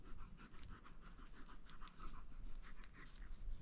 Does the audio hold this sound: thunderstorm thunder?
no